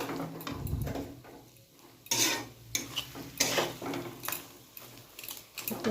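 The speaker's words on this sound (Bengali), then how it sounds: "এবার ধিমে আছে এইভাবে ভালো করে নেড়ে নেড়ে পুরো আলু, পেঁয়াজ, পুরো মশলাটা ফ্রাই করে নিতে হবে।" Potatoes, onion and spices stirred and fried in a pan over low heat: close, intermittent scraping strokes of a spoon against the pan with a soft sizzle underneath, no talking.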